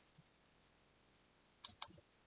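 A couple of sharp computer mouse clicks sound close and crisp after a faint, tiny tick, set against near silence.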